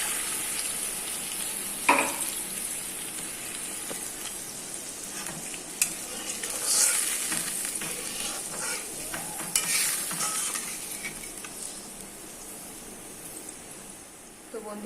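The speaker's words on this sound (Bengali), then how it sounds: "এবার মশলার মধ্যে আমি একটু জল দিয়ে দিচ্ছি" Spice paste sizzles steadily in a pan as a little water goes in, the frying hiss swelling in brief bursts with occasional stirring scrapes, close and continuous with no talk.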